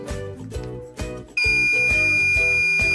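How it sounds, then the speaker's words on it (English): A shrill electronic buzzer switches on and holds a steady high tone after a few brief tonal beeps. "Now I am going to press the button once to turn on the buzzer."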